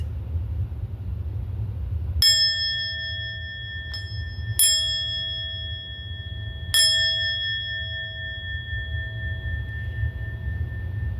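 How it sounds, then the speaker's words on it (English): A bell is struck three times at slow intervals, each clear ringing tone lingering and fading over a low steady rumble. "in a moment, I'll be ringing the bell"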